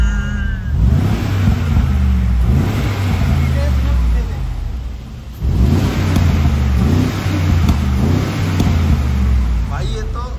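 A Porsche 911 Carrera S supercar engine revs loudly and close by, rising and falling in a few throttle surges with crackling exhaust pops, while people talk over it.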